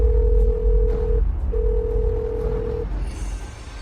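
Two long, steady ringback tones sound from a phone line with a short gap between them, loud and close over a low background rumble.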